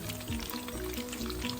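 Food frying in oil in a pan during outdoor cooking in snowy weather, a continuous close sizzle and bubbling hiss with no talk over it.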